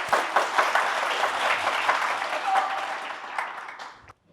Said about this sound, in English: We welcome him with a big round of applause.